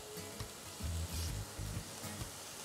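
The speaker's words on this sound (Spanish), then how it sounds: "Aquí ya está hirviendo el agua." Water boiling in a pot on a Mexican cooking show, with tomatoes about to be cooked in it. A steady close bubbling sizzle comes in uneven surges, with no talk over it.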